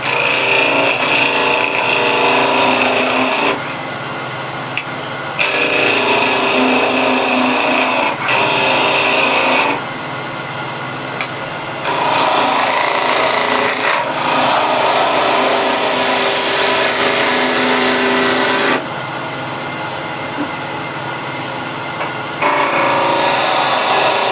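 A wood blank spins on a lathe while a 1/2-inch skew chisel cuts it, giving loud, rough shearing and rasping passes that stop and start in several long bursts with short quieter pauses between them; no talking.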